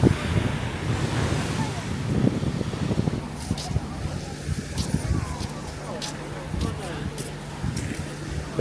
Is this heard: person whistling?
no